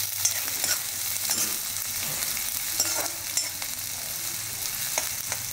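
Cloves, cardamom, a piece of cinnamon stick and onion frying in a little oil in a home kitchen, a steady close crackling sizzle with light stirring scrapes throughout, no talking.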